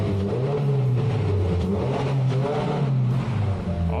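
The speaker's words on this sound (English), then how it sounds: "Little under temp rev for you, bud." 2022 Subaru WRX engine revved while still under temperature in a garage, a loud close rising and falling rev that holds steady through the clip.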